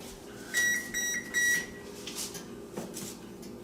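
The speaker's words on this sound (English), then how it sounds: "You just heard my oven sound off that it's warmed up to the 300 degrees" A kitchen oven signals it has finished preheating to 300 degrees on bake with three short electronic beeps in a quick, even row, close by, over a low kitchen hum.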